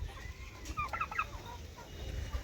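Chickens with clipped wings cluck softly in a small outdoor flock, a quick cluster of short calls in the middle over low rumbling background noise, moderately distant.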